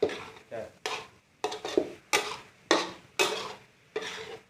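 Minced pork being stir-fried in a pan for khua kling, sounding as rhythmic scraping strokes about every half second over a soft sizzle, close and fairly loud, with no talk.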